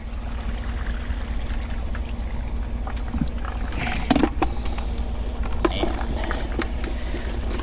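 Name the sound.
pouring out lake water from a container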